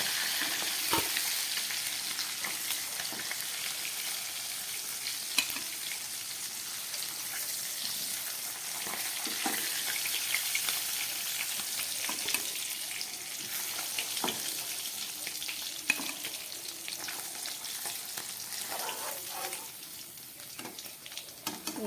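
Steady, dense sizzling of bacha fish frying in hot oil fills the whole stretch, with occasional light taps and stirs, close and continuous.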